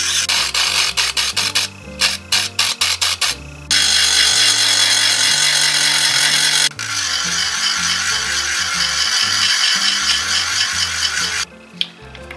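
Rotary tool shaving down a plastic part of a Hasegawa 1/24 BNR32 Skyline GT-R model kit, loud close grinding in short rapid bursts, then long sustained passes with brief pauses.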